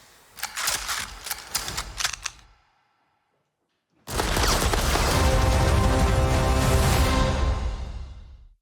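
Gunfire in an Indiana Jones movie trailer: a rapid burst of sharp shots, a brief silence, then a loud dense blast of action noise and impacts that fades out.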